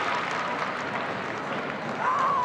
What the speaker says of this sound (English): Let's listen to the crowd on this one.